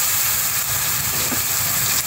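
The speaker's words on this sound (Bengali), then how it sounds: "পেঁয়াজটাকে একটু হালকা লাল করে ভেজে নেব" Chopped onions fry in a pan with ginger, garlic and chili paste, giving a steady, loud, close sizzle that runs without a break and with no talking.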